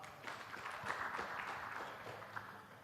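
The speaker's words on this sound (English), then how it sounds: "A round of applause for her." An expo panel audience claps for a woman panel member, a modest, fairly faint patter of hands that holds steady for a few seconds.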